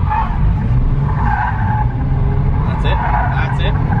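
Nissan 350Z sliding through a drift on a track at a drift driving experience, tires squealing in long, loud, continuous screeches over a steady roaring engine, with people talking inside the car.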